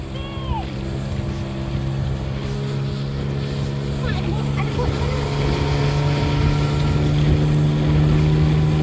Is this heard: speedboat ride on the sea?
yes